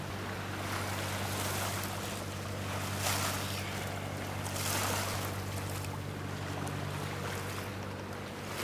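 A sailboat under sail on the open sea, with a steady wash of water against the hull and wind rushing across the rigging, a continuous even roar with faint rises and falls and no voices.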